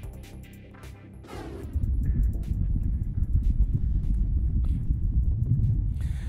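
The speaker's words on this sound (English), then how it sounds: "that sound is the sound of wind on Mars" Wind on Mars, recorded by a lander: low, steady rumbling wind buffets continuously, a dense roar with a few faint higher whistles and clicks over it.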